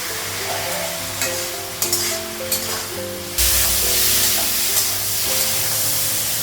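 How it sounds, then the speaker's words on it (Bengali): Pointed gourd and potato pieces fry in a pan with a close, bright sizzle, broken by a few sharp spatula scrapes and taps, and the sizzle swells louder partway through. "পটলটা আলুতে ভাজা হয়ে গেছে,"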